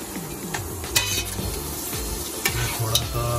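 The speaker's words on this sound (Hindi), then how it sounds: "तो सबसे पहले ये हल्का सा प्याज और लहसुन डाला हमने, इसको भी हम कर रहे हैं ब्राउन से" Onion and garlic fry in a pan with a steady close sizzle, while a utensil scrapes and clinks against the pan in repeated stirring strokes.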